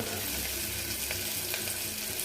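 Potatoes and chopped vegetables fry in a pan, a dense, steady sizzle with faint stirring scrapes and a few soft clicks, close and moderately loud, with no talking.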